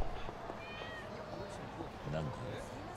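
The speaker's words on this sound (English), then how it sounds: "Oh, there's another cat!" A cat meows a couple of times in Yakuza 6, faint and thin in the mix, over game ambience while someone talks.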